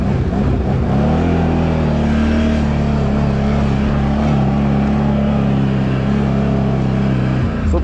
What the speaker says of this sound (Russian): мы просто включаем передачу, держим чуть газа, и у нас квадрик аккуратненько спускается, как на пониженной передаче